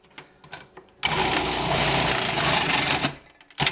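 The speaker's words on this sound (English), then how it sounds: "So we're going to grate these in the food processor" A food processor grates carrots for a carrot cake, a loud steady whirring grind that runs for about two seconds before cutting off, with faint clicks before and after.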